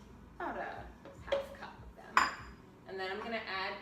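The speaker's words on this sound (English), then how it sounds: "So I'm gonna add in some cherry tomatoes." Cherry tomatoes drop into a bowl while a raw vegan lasagna sauce is being prepared, giving a few scattered close knocks and light clinks against the dish with quiet pauses between them.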